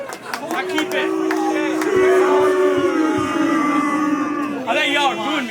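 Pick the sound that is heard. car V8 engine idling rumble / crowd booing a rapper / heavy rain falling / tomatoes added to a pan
crowd booing a rapper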